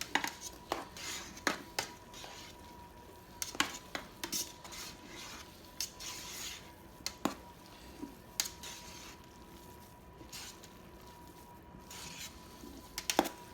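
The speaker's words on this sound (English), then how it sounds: "Stir that around again" A spoon scrapes and clinks in a bowl as liquid is stirred into a turkey herb butter mixture, with soft wet squishing and irregular sharp taps, fairly quiet and without talk.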